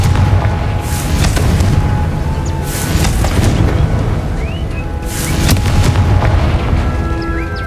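A Confringo blasting spell explodes in the video game Hogwarts Legacy, with several loud booming bursts rolling over a dense, steady layer of game sound and music.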